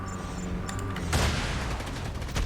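A sudden loud helicopter explosion bursts in, followed by a rumbling tail, amid ongoing gunfire and background effects in Call of Duty Mobile.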